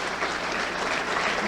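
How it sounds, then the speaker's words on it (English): Brief burst of steady, dense applause from an audience at a Prime Minister's address, even and continuous. "if we could give her a round of applause"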